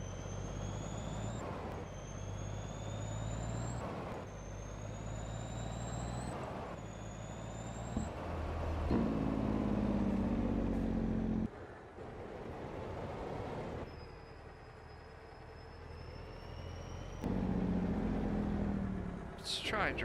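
A Detroit-engined truck in Farming Simulator 22 drives along, its engine drone rising in pitch with each gear and dropping at shifts, a repeated climbing whine over a steady rumble, with a voice talking over it.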